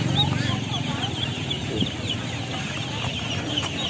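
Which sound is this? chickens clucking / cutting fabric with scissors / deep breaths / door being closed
chickens clucking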